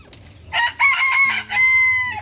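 Native hens and a crowing rooster kept in a cage on a Bangladeshi backyard poultry setup, with a loud, sustained cock-a-doodle-doo and clucking close by, heard alone.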